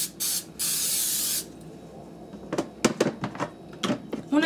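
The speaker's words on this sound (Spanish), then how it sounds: "como en este caso tengo la de aerosol, pues le vamos a poner aerosol." Aerosol cooking spray hisses in two bursts, a short one then a longer one of about a second, as a cake pan is greased for a homemade cake. Handling clatter of the can and pan follows.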